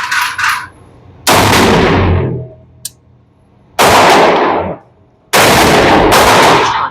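Three loud gunshots from an RIA 22 TCM pistol at an outdoor range target, each a sharp blast with a long fiery roll-off, spaced a second or more apart after a few faint clicks.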